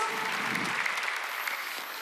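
Congregation clapping in a church during a Wednesday worship service, a dense steady wash of applause that fades slightly toward the end, with a faint voice briefly under it.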